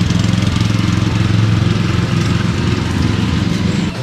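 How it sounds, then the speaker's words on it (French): A tractor engine runs steadily and loud at close range as it is driven at a chateau restoration site, a low chugging drone with no speech over it. "elle pilote son tracteur"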